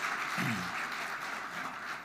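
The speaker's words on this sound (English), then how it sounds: "Give yourselves a round of applause." An audience claps steadily for a couple of seconds, a warm wash of applause with a brief voice underneath early on.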